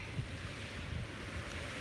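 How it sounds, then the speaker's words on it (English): Ocean waves washing onto a beach at sunrise form a steady, soft, continuous surf wash with some wind rumble and no voices. "Soak in these beautiful colors and the sounds of the waves"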